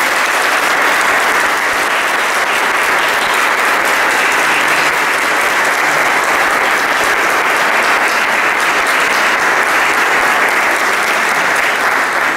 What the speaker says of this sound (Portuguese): Vamos dar uma salva de palmas então para Jesus